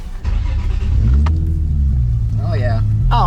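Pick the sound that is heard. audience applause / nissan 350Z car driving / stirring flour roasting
nissan 350Z car driving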